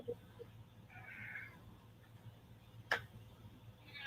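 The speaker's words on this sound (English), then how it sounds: "Is it your cat?" A house cat meows softly a couple of times at close range in a quiet room, the brief cries rising over faint background hum, with a sharp click near the end.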